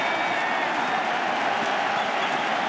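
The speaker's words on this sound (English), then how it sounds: "And this crowd is back in it." A baseball stadium crowd at a World Series game between the St. Louis Cardinals and Boston Red Sox, a steady, loud roar of cheering and applause that holds without a break.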